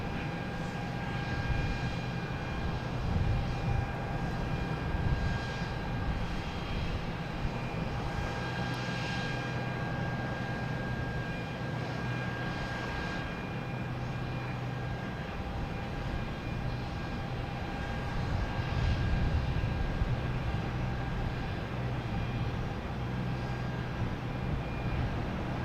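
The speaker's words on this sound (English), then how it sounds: "next to arrive, we have United Airlines, the 737-900 coming in from Chicago" A United Airlines Boeing 737-900 arrives at Boston Logan from Chicago, its engines making a steady, broad roar that swells slightly at times, heard from the ground with no talking.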